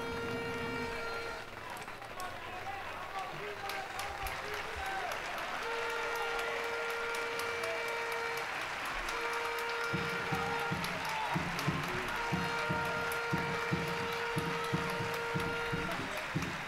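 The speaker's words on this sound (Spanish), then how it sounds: "Muy aplaudido también Julio, gran partido de Julio, sobre todo la primera mitad" Football crowd applauding a substituted player leaving the pitch during a match in Ceuta, Spain; steady applause with a continuous murmur of spectators, loud and sustained throughout, with clapping growing denser and more rhythmic toward the end.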